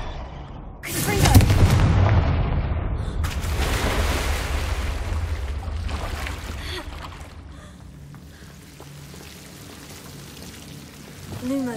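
Confringo fire-blast spell explosions in the Hogwarts Legacy video game, a loud booming burst near the start followed by a second blast and a long rumbling, crackling decay, with smaller pops trailing off toward the end.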